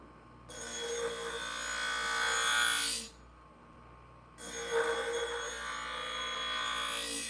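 A knife is sharpened in two long, drawn-out strokes of grating metal, each lasting a few seconds with a short quiet gap between, close and fairly loud.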